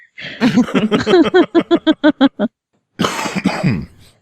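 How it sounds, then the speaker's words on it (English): A rapid string of about a dozen loud, close coughs in quick rhythm, a short pause, then another raspy coughing burst. "when I laugh, I cough because I'm sick"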